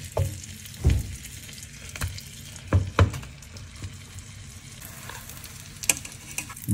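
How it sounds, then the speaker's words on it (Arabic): A croissant toasts in melted butter in a hot frying pan, with a soft steady sizzle broken by a few sharp knocks and scrapes of the pan and utensil. "بمقلاية حامية بنزل الزبدة، بنزل الكرواسون لأحمصه"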